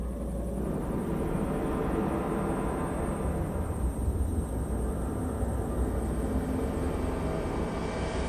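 Steady roar of a helicopter in flight over flood-hit Sendai in Miyagi prefecture, northern Japan, a continuous broadband rumble and whoosh at even loudness with no voices.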